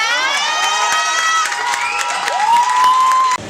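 A crowd at a poetry festival open-book session cheers loudly after a performance, with whoops, high whistles and shouting blending into a dense, close roar that cuts off abruptly at the end.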